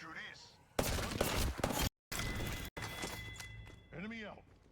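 Gunfire in the video game Apex Legends, rapid bursts of shots and impacts with a brief cut to silence, heard alongside in-game voice lines and a musical chime.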